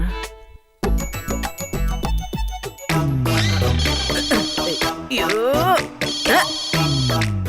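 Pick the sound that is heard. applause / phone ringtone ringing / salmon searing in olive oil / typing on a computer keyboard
phone ringtone ringing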